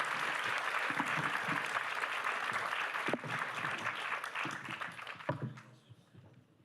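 Audience applause at a business summit panel on AI, a dense sustained wash of clapping from a large hall that thins out and fades over the last seconds.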